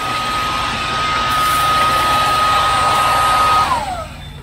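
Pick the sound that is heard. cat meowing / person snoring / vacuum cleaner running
vacuum cleaner running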